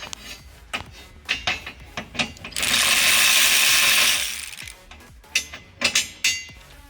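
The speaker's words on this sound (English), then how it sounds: "now we have to put the bolts back." Bolts going back onto the fuel filler neck of a 2010–2017 Ford Mustang GT 5.0, close metallic clicks and ratchet ticks with a long buzzing ratchet run midway, no talking.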